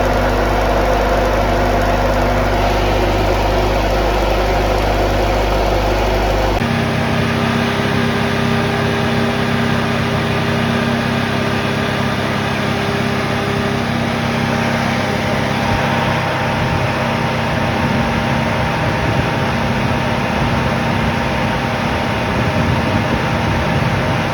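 Radiator fan on a Honda CRX whirring steadily with engine-like hum, an abrupt change in tone partway through as the old fan gives way to the replacement, running loud and continuous with no talk.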